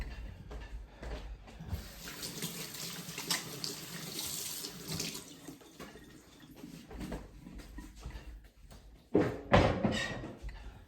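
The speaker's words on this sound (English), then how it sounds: "Wash my hands again." A kitchen tap runs while hands are washed: a steady rush of water with splashing and shifting flow, and a louder burst of splashing near the end.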